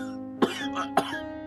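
A man coughs twice, close and fairly loud, two short harsh bursts about half a second apart over a steady low hum.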